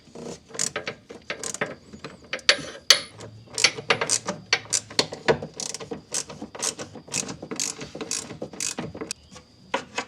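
A ratchet wrench snugs down the mounting bolts on an Arctic Cat Prowler fuel pump, giving rapid runs of sharp metallic clicks in uneven bursts with short pauses, close and fairly loud.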